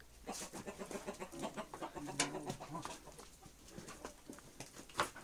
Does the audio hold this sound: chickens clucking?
yes